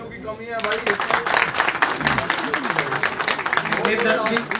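Audience applause at a political gathering marking Emergency day, a steady wash of clapping from many hands, fairly loud, with a voice talking over it.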